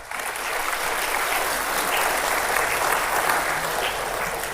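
An audience applauds at a public speech by India's law minister in a hall, the clapping steady and dense from start to finish with no pauses.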